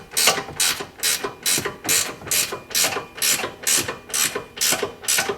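A ratchet wrench tightening a nut while installing a lift kit on a Polaris Ranger SP 570, a steady run of about a dozen rhythmic clicking strokes, close and clear, with no talking.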